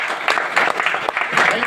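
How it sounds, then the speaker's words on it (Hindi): An audience claps during a motivational speech event, with a dense burst of applause running through the brief moment at fairly close range. "एक बार जोरदार ताली।"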